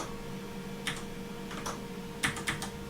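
Typing on a computer keyboard, with a few scattered key clicks and a short quick burst of taps near the end, quiet and close over a steady background hum.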